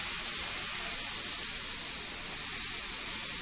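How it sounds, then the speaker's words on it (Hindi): Spices and paste frying in a pan for mutter paneer gravy, a steady close hiss and sizzle that holds evenly throughout with no talking. "अभी ये पेस्ट को भी इसमें डाल के अच्छे से फ्राई कर लेंगे"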